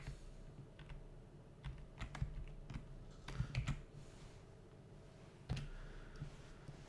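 Keys on a computer keyboard are tapped in quick, irregular clusters with short pauses between them, close-up and fairly quiet, with no talking.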